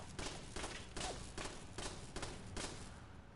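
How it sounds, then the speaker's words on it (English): Gunfire in Fallout 4 cracks out in a quick series of about seven evenly spaced shots, faint and distant-sounding, with a dull thud under each report. "Try to see if I can't get it to fire a few shots."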